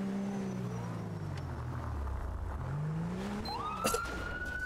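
Police car siren in the FivePD police video game, a wailing tone sweeping up and down over steady engine and road noise, loud and continuous with a sharp blip near the end.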